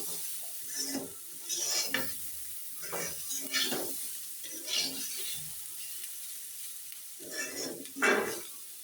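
Green beans and potatoes fry in oil for a bhaji, sizzling softly while a utensil scrapes and stirs the pan in repeated bursts, fairly close, with no voices.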